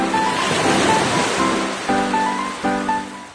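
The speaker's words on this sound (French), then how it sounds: "une petite vague s'écrase sur les rochers" A small wave crashes onto seaside rocks with a loud, close rush of surf and splashing water, while soft tonal music plays underneath.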